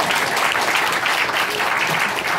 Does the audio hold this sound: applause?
yes